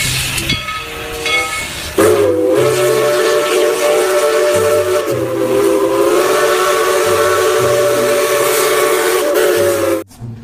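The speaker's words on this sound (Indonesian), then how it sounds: "Yang ini ada kereta Thomas." A toy Thomas steam train gives a long, sustained whistle lasting about eight seconds over a steady, rhythmic chugging beat, then stops abruptly.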